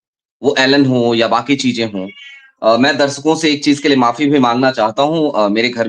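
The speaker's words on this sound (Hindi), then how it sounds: "उसकी म्याऊं म्याऊं आपको सुनाई दे रही होगी" A pet cat meows faintly at home, its small cries mostly buried under a man's continuous, close talking, with one brief meow peeking through a short pause.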